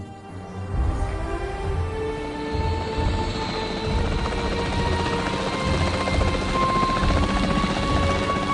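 Capture team helicopter in Jurassic World Evolution 3, a steady rotor thrum with a rising whine, close and sustained for around eight seconds, with no voices.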